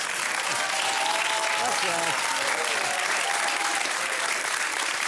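A studio audience on the Chilean program Sin Maquillaje gives a strong, sustained round of applause for actor Héctor "Tito" Noguera, dense and steady throughout, with faint voices mixed in.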